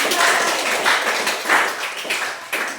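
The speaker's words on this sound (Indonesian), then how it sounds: "Oke, kita tepuk tangan untuk itu" A classroom of students claps hands together in a short round, dense and fairly loud, with slight swells and no talking over it.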